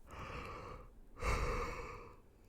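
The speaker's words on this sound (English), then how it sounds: "Don't mean to yawn in your ear." A person yawns right up against the microphone, a drawn-out, breathy exhale that swells and then fades, quiet and intimate, with no words.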